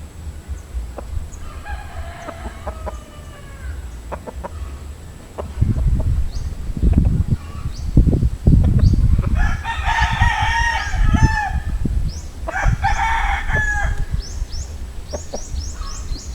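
A Tasmanian sweater gamefowl rooster in a backyard breeding setup crows several times, loud and close, over a steady low background rumble and some rustling.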